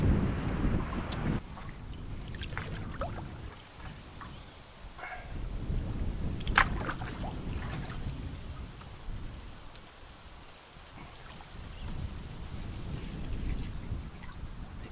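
Wind gusts across a lake during a canoe paddle, a low rushing roar that swells and fades, with scattered splashes and knocks close by.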